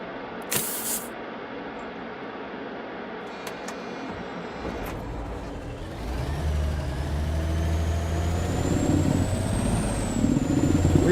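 Truck engine in Alaskan Truck Simulator, a hiss burst early, then a steady low rumble that builds and holds loud, with a rising whine toward the end.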